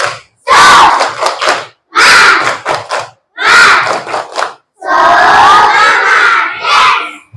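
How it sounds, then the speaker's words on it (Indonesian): Third-grade pupils perform a rhythmic spirit clap and chant together in class, loud unison bursts of voices and clapping separated by short pauses. "Tepuk semangat."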